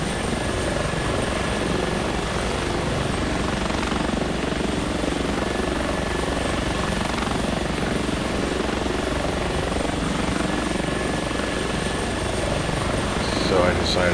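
Simulated H145 helicopter in flight in X-Plane 11, a steady, loud, continuous rotor and turbine drone with constant whine holding throughout, no voices.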